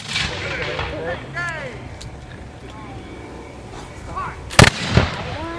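A volley of muskets fires at a Canadian war reenactment: a single sharp, loud crack from the massed guns, then a second smaller report, outdoors over a background of crowd murmur and distant voices.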